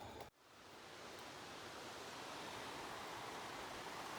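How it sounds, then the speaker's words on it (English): A mountain creek on a Rockies day-hike trail rushes steadily after a brief thump at the start, a continuous broadband hiss of flowing water, moderately distant and with no voices. "starting to hear the creek go off"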